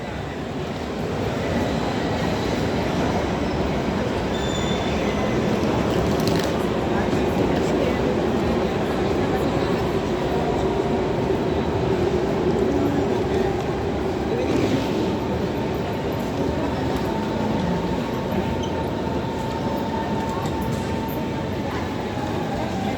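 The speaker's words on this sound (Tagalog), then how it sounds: "Yun naman sa train sa taas guys, yung train dito lang sa Berlin." Train at Berlin Central Station (Hauptbahnhof), a loud continuous rumble and roar of a passing train filling the platform area, with a faint tonal whine drifting through the broad noise.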